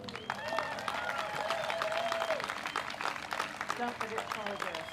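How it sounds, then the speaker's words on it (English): A crowd at a pro-democracy march cheers for Tracy, with continuous clapping and shouts mixed with excited voices and whoops over several seconds. "Cheer for Tracy."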